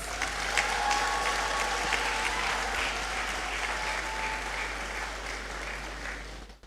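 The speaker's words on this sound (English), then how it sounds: "I think you deserve a resounding round of applause." A hall full of people at a college graduation ceremony applauds the graduating class, a loud sustained wash of clapping that holds steady throughout and fades out at the very end.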